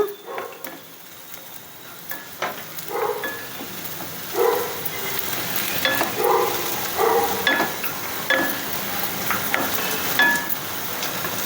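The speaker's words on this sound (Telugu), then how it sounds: "ఈ వేగిన ఉల్లిపాయల్లో మనం జీడిపప్పులు కూడా వేసుకోవాలి జీడిపప్పులు కూడా వేసుకొని వేసుకోవాలి ఈ విధంగా" Cashews and fried onions sizzling in a pan for an egg masala curry, with a steady close frying hiss, bursts of crackle and occasional stirring clinks, no talking.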